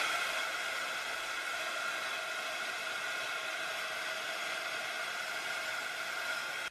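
A hair dryer or heat tool blows steadily and close on a card splashed with Distress Stain ink, a constant broadband whoosh with no pauses for the whole stretch and no voices.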